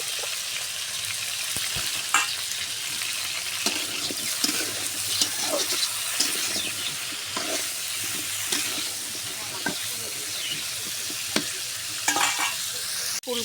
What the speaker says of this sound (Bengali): লবণ আর হলুদ দিয়ে ভেজে নেব।